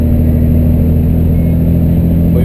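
A car engine hums and revs at a steady mid pitch on the BR 116 highway in northeastern Brazil while the driver works the gears, loud and close with a constant droning tone and no voices.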